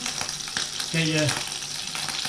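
Steady sizzling and crackling of a snook fillet frying in a hot pan, with a brief scraping stir partway through.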